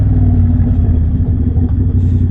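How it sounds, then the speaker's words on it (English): Triumph Bobber motorcycle with a Motone X-Pipe exhaust and almost no silencing, giving a loud, steady, close low rumble throughout with slight irregular pulses. "Sounds absolutely fantastic. The popping backfiring."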